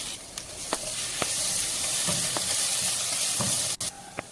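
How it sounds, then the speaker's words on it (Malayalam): Crushed garlic and ginger sautéing in hot coconut oil in a kadai for Kerala-style quail roast, a loud continuous sizzle broken by sharp spoon taps and scrapes against the pan, with no voices. "ഒരു കടായി ചൂടാകുമ്പോൾ അതിലേക്ക് കുറച്ച് വെളിച്ചെണ്ണ ഒഴിച്ച് 1 ടേബിൾ സ്പൂൺ വെളുത്തുള്ളി ചതച്ചതും 1 ടേബിൾ സ്പൂൺ ഇഞ്ചി ചതച്ചതും ഇട്ട് നന്നായി വഴറ്റിയെടുക്കുക"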